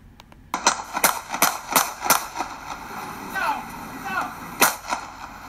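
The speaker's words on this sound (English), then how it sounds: "He pumps 7 rounds into him." A rapid volley of about seven sharp, loud gunshots rings out at close range, the cracks spaced unevenly over a few seconds, with voices faintly present underneath.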